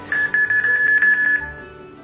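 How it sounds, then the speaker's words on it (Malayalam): A phone running a hidden camera detector app beeps as it picks up a camera: a quick series of regular, bright electronic beeps over a steady tone, close and fairly loud, fading out near the end. "ആ ക്യാമറ ഡിറ്റക്ട് ചെയ്തപ്പോൾ ഈ നമ്മുടെ ഫോണിൽ ബീപ്പ് സൗണ്ട് കേൾക്കുന്നത് കേൾക്കാം"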